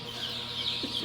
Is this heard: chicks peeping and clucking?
yes